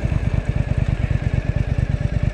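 A moped engine runs steadily close by, its rapid low thumping pulse holding an even, loud beat with a faint rattle over the top and no talk.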